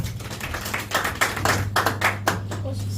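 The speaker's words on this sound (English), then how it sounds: "Please give her a round of applause" Scattered hand claps from a small group at a gathering, uneven bursts of clapping over a steady low hum, fairly close and moderately loud, never building into a full ovation.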